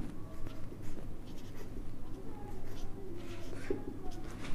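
A pen scratches out an accounting entry by hand in a steady, soft scribble, continuing under low room noise and faint background sounds.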